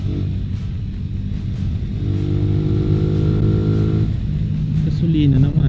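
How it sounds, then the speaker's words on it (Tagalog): A motorcycle tricycle engine runs close by with a steady rumbling idle that rises into a brief rev, heard under a man's speech. "Ba't ganon yung andar ng motor?"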